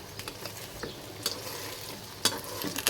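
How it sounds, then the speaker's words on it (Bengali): Banana poa pitha frying in hot oil make a steady close sizzle, with a few sharper stirring scrapes and turns; no voices. "আস্তে আস্তে করে পিঠাগুলো ভেজে নেব"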